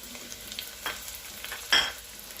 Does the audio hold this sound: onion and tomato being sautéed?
yes